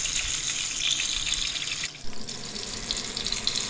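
Small fish pakora frying in hot oil in a wok, a steady bright hiss and crackle that dips briefly as more pieces go in, then resumes continuously.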